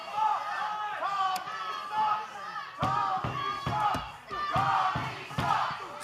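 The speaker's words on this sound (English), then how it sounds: "the crowd's chanting Tommy sucks here" Wrestling crowd at a live title match chants in rhythmic bursts, with sharp slams and thuds from the ring cutting through, moderately loud and echoing.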